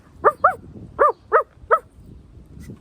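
Human voice imitating a high-pitched, chihuahua-like dog bark, five short yappy barks in quick pairs and singles, close and clear against a quiet room.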